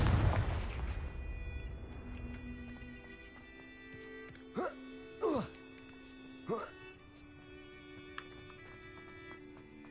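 A Confringo explosive spell cast in the video game Hogwarts Legacy opens with a loud booming blast that decays over a second or two, followed by several short sharp impacts and faint ringing tones.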